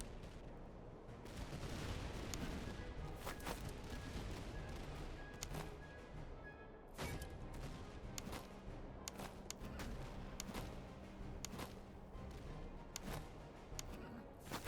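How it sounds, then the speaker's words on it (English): Ragged volleys of musket fire from Freikorps volunteer troops in a Napoleonic-era battle game, sharp cracks scattered across a continuous roar of battle noise, several bursts bunching together near and far. "I want you firing into them."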